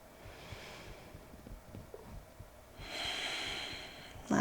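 Deep breathing during a yoga side plank, with soft nasal breaths and snorts early on, then a long loud airy exhale near the end before a sharp close sound.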